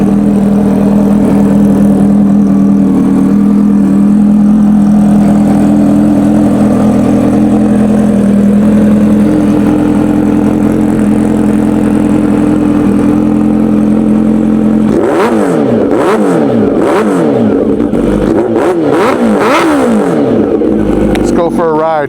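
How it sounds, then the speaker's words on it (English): A Kawasaki Ninja H2R 2026 superbike, a 326 hp supercharged machine on slick tyres, idles steadily up close, then from midway blips through sharp, rising and falling revs in quick repeated bursts. "The fastest motorcycle in the world, the Kawasaki Ninja H2R 2026. Let's fire up."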